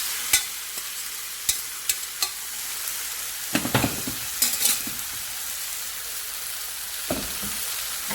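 Green gram frying in a pan on low flame sizzles steadily while a spoon stirs it, with several sharp scraping clacks and a cluster of louder stirring noises partway through.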